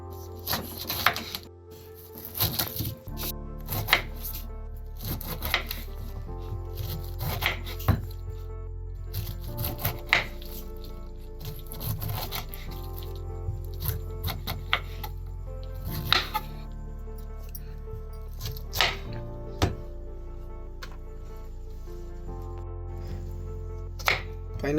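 A knife chops pineapple into medium pieces for a Mangalorean ananas sasam, giving repeated sharp taps on a cutting board in an uneven rhythm, close and fairly clear over a low hum.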